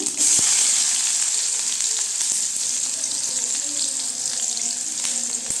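Onion tipped into hot oil for a kumutti keerai koottu, a loud, constant sizzle and hiss close by with no voices.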